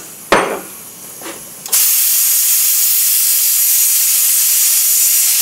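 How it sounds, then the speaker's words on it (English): Steam hissing from a pressure cooker as pressure is released to open the lid, after a couple of sharp metallic knocks it bursts into a loud, steady, close rushing hiss that holds unbroken to the end. "we need to get the pressure out so we can open the lid up"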